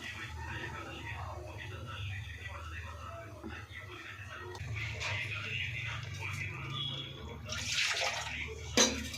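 A pot of curry with masala simmers and bubbles, a soft watery burble that swells louder near the end while a voice talks over it.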